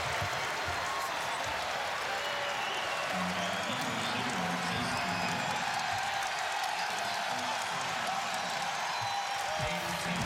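A basketball crowd at Auburn's arena roars and applauds on its feet after a defensive play in a 2013 Florida at Auburn game, a steady dense wash of cheering that lasts throughout.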